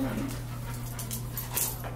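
A dog whimpers softly in short, high whines over a steady low electrical hum, with a few brief louder yelps near the middle.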